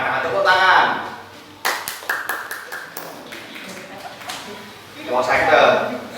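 A church congregation at a Sunday worship service claps hands to vote, giving a burst of sharp, overlapping applause in the middle, with a leader's voice speaking before and after it.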